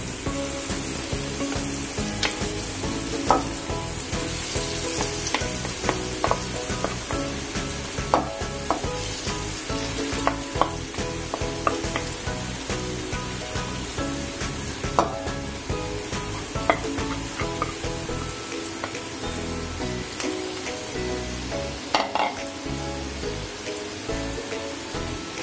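Soaked dal hitting hot oil with green chilli tempering, a loud, continuous close sizzle and frying crackle with scattered stirring clatters throughout, steady for the whole stretch.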